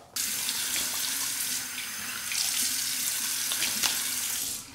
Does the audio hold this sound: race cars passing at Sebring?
no